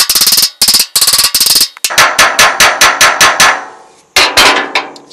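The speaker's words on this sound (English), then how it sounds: "So we'll see if we can knock this one loose." Loud, close metal-on-metal hammer blows knock at the PTO shaft of a Massey Harris 30 tractor, landing in quick rhythmic bursts of several strikes separated by short pauses, with no talk.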